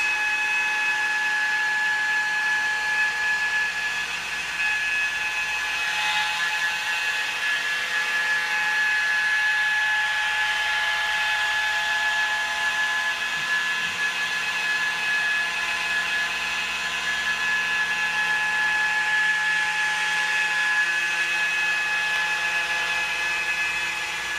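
A power buffer polishes car paint with Meguiar's Mirror Glaze, a steady high-pitched whine holding constant for the whole stretch with no talking.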